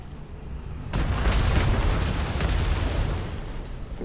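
A ship's cannon firing in a Garry's Mod Royal Navy roleplay game, with one sudden loud boom about a second in, followed by a heavy rumbling roar that lingers at close range and slowly tapers off.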